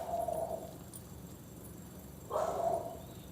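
A dog barks twice outdoors, two short bursts a couple of seconds apart, moderately distant, with steady low background rumble.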